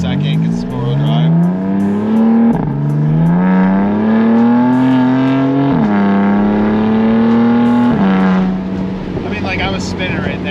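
A stage 2 tuned BMW M4 with a crackle-and-bang tune accelerates hard with its rear wheels spinning. The engine note is loud and close, rising through several gear pulls with brief shift dips, and voices talk over it.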